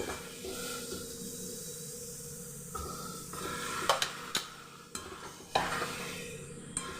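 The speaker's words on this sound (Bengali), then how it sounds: "মশলাগুলোকে খুব ভালো করে কষিয়ে নিয়েছি" Spices sizzle and hiss in a pan for chicken kosha while a spoon stirs them, a steady frying sound broken by several sharp scraping clanks against the pan, up close.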